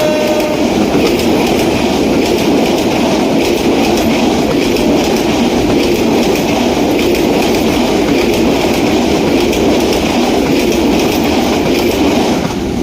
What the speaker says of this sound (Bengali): ট্রেনটি দেখেন কত দ্রুত গতিতে চলে গেল